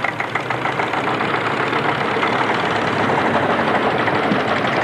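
A vintage tractor with a mechanical lift runs at a 1989 tractor rally in Brørup, Denmark, its engine chugging loud and close at a steady knocking idle with no break.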